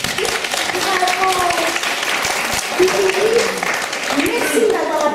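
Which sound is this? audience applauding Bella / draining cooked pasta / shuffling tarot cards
audience applauding Bella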